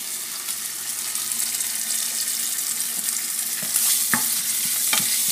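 Chinese chili bean paste for mapo tofu frying in a pan, a bright continuous sizzle and crackle with occasional spatula scrapes and taps, close and fairly loud.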